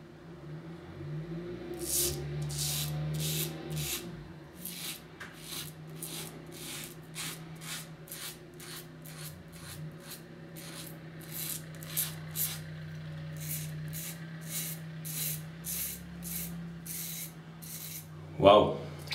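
A Parker Variant adjustable safety razor on setting 3, warmed in water, scrapes through stubble in a steady run of short, rasping strokes, close and distinct, with a low background hum underneath.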